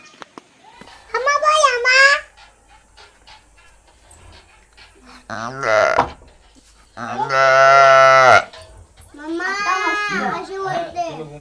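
A calf moos loudly and close by several times in a Konkan village, long drawn-out calls separated by pauses, with people talking in between.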